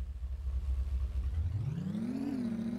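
In the video game Agent Roswell, a car engine drones at low pitch and then revs upward, its tone rising and holding as the vehicle accelerates, steady and fairly quiet with no voices.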